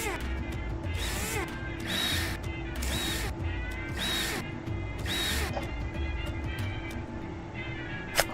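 Screws being removed from a rover cover in a mechanic simulator game, a series of evenly spaced mechanical whirring bursts about once a second over a constant background hum.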